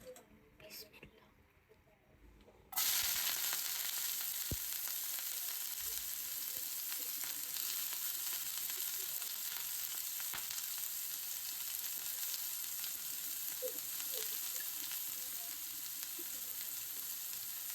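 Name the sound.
onions frying in a pan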